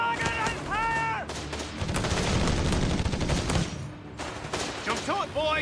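Rapid gunfire crackles through a Company of Heroes 3 battle at an airfield, a dense sustained fusillade of rifle and machine-gun shots mixed with distant booms, with shouted voices and radio-like calls breaking in at the start and end.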